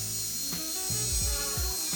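A car polishing machine runs at a raised speed setting against car body paint, giving a whirring mechanical drone with shifting pitch and a few uneven grinding pulses, with no talk.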